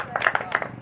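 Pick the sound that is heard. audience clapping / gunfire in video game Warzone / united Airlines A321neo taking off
audience clapping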